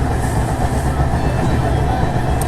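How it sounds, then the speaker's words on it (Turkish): Rumbling ride inside a railway carriage on a long train journey in eastern Turkey, a steady loud low roar with faint rhythmic clatter, continuous throughout. "tren yolculuğu"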